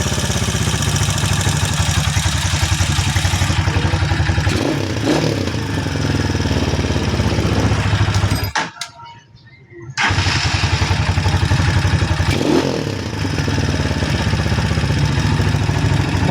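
A Rusi Classic 250 motorcycle runs close by with a loud, steady idle chug, cuts out for about a second midway, then carries on running, with talk over parts of it.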